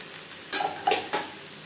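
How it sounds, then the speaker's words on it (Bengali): Snake gourd being stirred into a spiced tempering in a pan, frying without garlic or onion, with three short scraping stirs over a faint, steady sizzle. "ফোড়নের সাথে চিচিঙ্গা বেশ ভালো করে মিক্স করে দেব"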